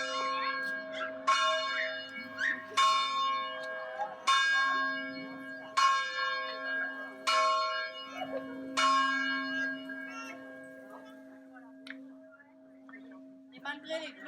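A church bell tolls with about six evenly spaced strikes, each ringing out and slowly fading, over a steady low hum.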